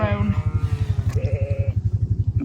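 Sheep bleating during lambing on a Lake District fell farm, a wavering ewe's bleat near the mic over a steady rhythmic low pulsing engine-like drone.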